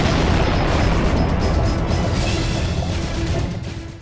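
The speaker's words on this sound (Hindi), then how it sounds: "ये जानने के लिए आप अटलांटिक महासागर में हुए इस विस्फोटक धमाके को देखिए।" A massive underwater bomb explosion at sea in the Atlantic, off Florida, roars as a loud, continuous rumbling wash of noise that stays heavy for several seconds before starting to fade.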